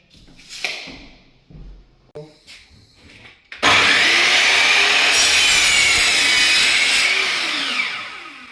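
A wooden skirting board is cut by hand with a saw: after a few scattered knocks and handling sounds, a loud, continuous rasping stroke takes over for about five seconds, close and dominant, easing off at the end.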